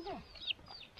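A hen in Arang Kel village in the Neelum Valley gives a few brief clucks mixed with thin, high chirps, heard faintly at moderate distance over quiet outdoor background.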